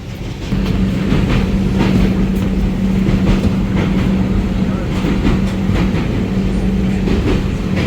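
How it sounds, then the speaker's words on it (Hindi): Steady rumble and rhythmic rail clatter from inside a moving passenger train on a journey from Delhi to Deoghar, continuous and fairly loud with a low hum throughout. "काफ़ी दिनों के बाद ट्रेन में ट्रैवल कर रही हूँ मैं"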